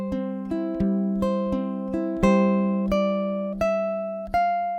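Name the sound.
ukulele Travis picking etude, measures 9 and 10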